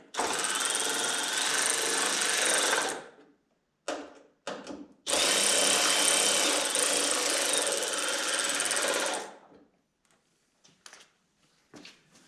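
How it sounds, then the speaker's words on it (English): A power tool drives and tightens bolts on a crashed Camaro being rebuilt, with two long, loud, steady whirring runs close by, separated and followed by short clicks and quieter handling noises. "So tighten these bolts. You tighten that side."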